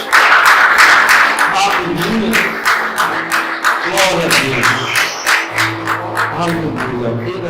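Church congregation applauding, with rhythmic clapping running under a loud voice that exclaims in praise.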